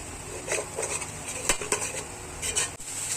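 Spices fry in a pan while a utensil stirs and scrapes against the metal, sharp clinks and rattles over a soft sizzle for a few seconds, close up with no talking.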